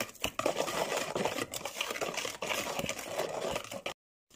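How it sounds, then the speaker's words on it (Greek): Melted couverture chocolate being beaten into whisked eggs and sugar for a chocolate cake, a busy continuous whirring and scraping with rattling knocks against the bowl, ending abruptly in silence. "Ρίξαμε τη λιωμένη κουβερτούρα μέσα στα αυγά και τη ζάχαρη που τα είχαμε χτυπήσει. Τα χτυπάμε και αυτά όλα μαζί."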